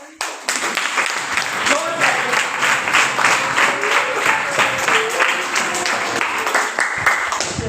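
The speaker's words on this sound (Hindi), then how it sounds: "तालियां बजाइए" A classroom of students claps for a classmate after a recited Hindi poem, giving brisk, loud applause that holds steady for several seconds while a voice speaks faintly under the clapping.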